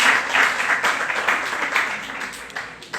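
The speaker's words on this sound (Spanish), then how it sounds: "Un aplauso, por favor." Audience applause at a live Spanish talk on envy, a dense steady round of clapping at moderate volume that tapers slightly toward the end, with no voices over it.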